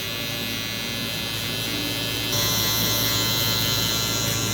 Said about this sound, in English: now with our hard trimmer, I'm gonna go ahead and clean out this bottom line right here before balding out